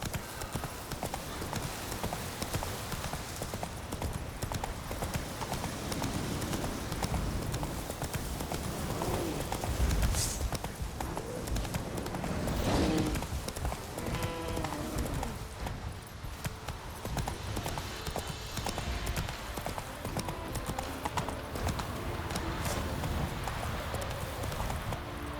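Roach, a horse in The Witcher 3, gallops with a steady, loud clip-clop of hooves running throughout, joined by brief louder impacts and a faint whinny.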